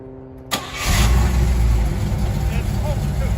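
A third-generation Chevrolet Camaro with a newly swapped five-speed manual cranks briefly and starts, then settles into a loud, steady idle close by, with a voice talking over the engine.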